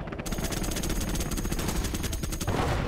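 Rapid, continuous minigun fire from a Chinese infantry unit in the real-time strategy game Contra X, a dense unbroken rattle of shots running the whole stretch without pause.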